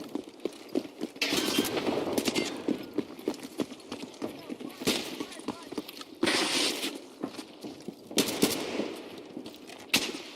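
Mounted gunner's weapon firing in a video game, rapid bursts of gunshots repeating in clusters among heavy clattering effects, with players talking over the action.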